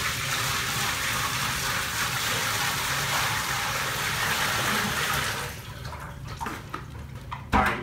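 Water pours steadily into an aquarium tank being set up for crayfish, a loud constant gush that stops after about five seconds, followed by a few small splashes and clunks.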